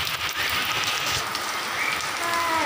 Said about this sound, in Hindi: बहुत ज़्यादा बारिश पड़ रही है